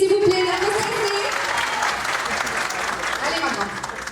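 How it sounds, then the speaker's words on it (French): An audience at a school end-of-year show breaks into steady, broad clapping that fills the clip, with a voice briefly audible at the start. "On applaudit s'il vous plaît"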